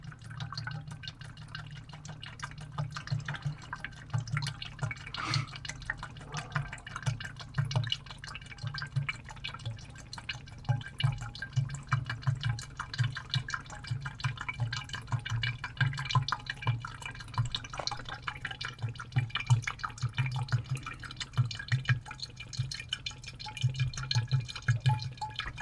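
Diesel fuel drains from a Jeep Wrangler's fuel filter in a steady patter of faint drips and trickling liquid, with a low hum underneath throughout.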